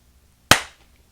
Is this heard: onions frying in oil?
no